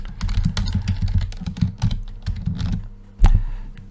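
Fast, steady typing on a computer keyboard while writing Python test code, with dense close key clicks in continuous runs and one heavier thump near the end.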